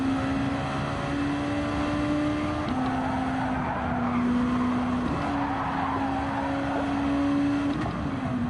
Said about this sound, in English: I heard tires screeching.